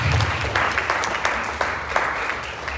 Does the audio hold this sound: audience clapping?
yes